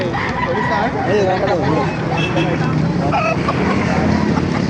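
Roosters and hens at a chicken market in Baliuag, Bulacan crow and cluck repeatedly amid a busy crowd, with people talking nearby throughout.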